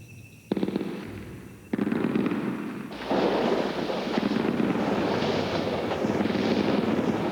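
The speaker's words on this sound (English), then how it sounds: "as well as thunder, there is another loud noise in the forest. Gunfire." Rapid bursts of gunfire crackle and rattle, building into a dense, continuous barrage that grows louder partway through.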